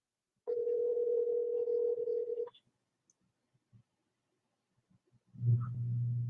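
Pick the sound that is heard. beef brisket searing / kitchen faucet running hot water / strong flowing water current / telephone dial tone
telephone dial tone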